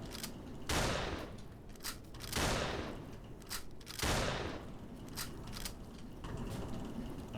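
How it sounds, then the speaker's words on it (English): Gunfire from a shooter video game in which rats are being gunned down: bursts of shots and broadband blasts repeat over about seven seconds, loud and dense, with mechanical clatter between volleys. "Shooting rats, yeah, we're just massacring them."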